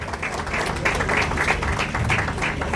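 An audience at an electric vehicle and estate launch claps for a civil engineer, a muffled, fairly loud burst of applause with a boomy low rumble underneath, lasting a few seconds.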